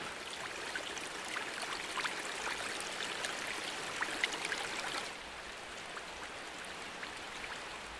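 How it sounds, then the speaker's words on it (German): Water from an artificial waterfall in the Bergpark Kassel-Wilhelmshöhe rushes in a steady, broad roar that stays close and continuous, easing slightly midway, with no voices. "das Wasser schießt zur Teufelsbrücke"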